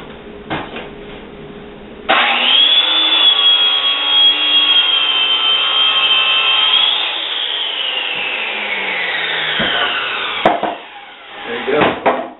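A saw rips wooden boards into 3.5-inch strips, its loud steady whine running under the cut for several seconds before winding down, with knocks and clatter of wood before and after.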